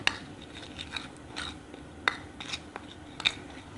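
Henna and oil hair mixture stirred in a bowl, soft scraping and wet stirring with sharp little clinks of a spoon against the container, irregular and close, with no talking.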